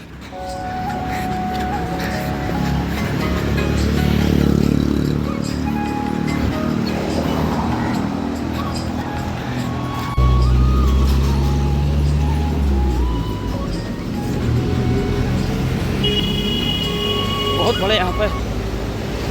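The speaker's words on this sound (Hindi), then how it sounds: "ट्रैफिक है भाई, ट्रैफिक के बीच में से निकलते हुए" Road traffic passing under a flyover between Sectors 25 and 32 in India, a steady loud rumble of engines and tyres with horn-like tones near the end, heard close from within the traffic while someone talks over it.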